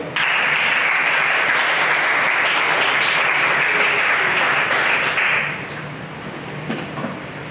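Sustained applause from a church congregation at an evening worship retreat, loud and dense for about five seconds before tapering off into scattered claps and room noise.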